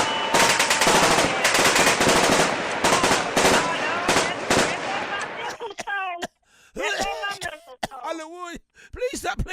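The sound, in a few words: rapid gunshots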